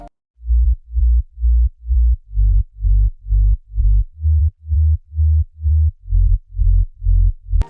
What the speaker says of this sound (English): After all the processing, our sub bass will sound like this.